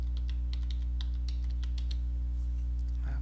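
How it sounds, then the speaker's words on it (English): Someone types a password on a computer keyboard, a short run of crisp, evenly spaced key clicks over a steady mains hum, then a slightly louder final keystroke. "And then you're going to type in the word password."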